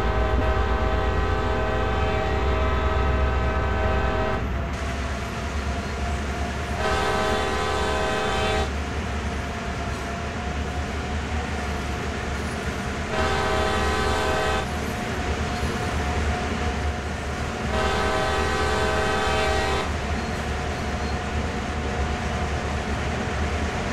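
A diesel locomotive in Train Sim World 2020 pulls away after its brakes are released. Steady engine drone and track rumble run throughout, broken by several long, loud horn blasts at regular intervals, with no talking.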